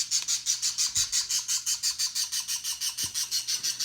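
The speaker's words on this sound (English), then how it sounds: "every time I get close to this bird, it starts chirping like crazy" A caged bird chirps loudly in a fast, regular series of sharp squawking calls as someone approaches, close and insistent, with a couple of faint thumps underneath.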